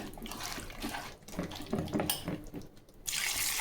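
Water from a tap runs steadily into a cooking pot for kaara kuzhambu, a continuous close splashing gush that swells louder near the end, with no talking.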